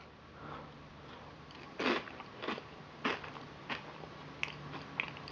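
Dry pieces of Cap'n Crunch's Red White and Blue Crunch cereal (2019 Quaker) crunched by mouth in a quiet room, about seven sharp, close bites and chews spaced irregularly, with no talking.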